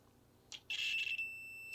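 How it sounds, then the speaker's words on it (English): A multimeter in continuity mode, probing a fuse on a Samsung Frame TV One Connect Box, gives a clean, steady electronic beep that holds for about half a second after a brief click, quiet and close. "In continuity mode, when we have continuity, I will get a beep from my multimeter."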